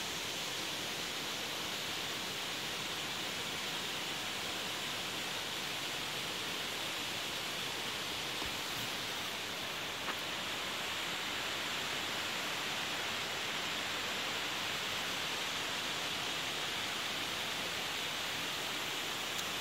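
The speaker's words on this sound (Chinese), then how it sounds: "那么瀑布在哪儿呢？" Wentworth Falls in Australia's Blue Mountains gives off a steady, even broadband roar of falling water that runs unbroken for the whole stretch, with no voices over it.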